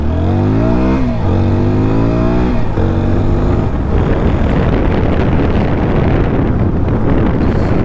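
A TVS Apache RTR 160 4V motorcycle accelerating in first gear, its engine note rising in quick stepped pitch sweeps before heavy wind rush takes over, loud and close.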